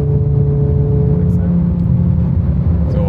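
A five-cylinder car pulls hard after an upshift, with a steady, loud, droning engine note and road rumble heard from inside the cabin.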